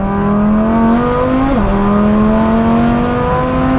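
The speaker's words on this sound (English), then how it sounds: "rev it up when he's going 3, 2, 1, and then let it go" A tuned Audi TT engine holds a loud, steady high rev with a brief dip and recovery midway, droning close and continuous while boost builds before launch.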